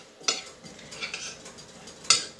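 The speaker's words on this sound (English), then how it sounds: "mix this in until you get like a nice little dough here" Zucchini kofta dough being worked with flour in a bowl, a few sharp clinks of a utensil against the bowl over soft, uneven mixing noises.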